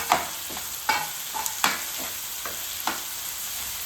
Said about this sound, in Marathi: आता व्यवस्थित आपण इथे हे सगळं जे आहे ना परतून घेऊया